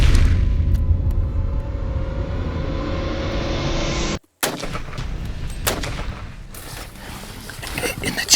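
A loud rifle shot on an African safari hunt, a heavy boom that rolls and fades over several seconds, followed by a brief dropout and then outdoor rumble and rustling.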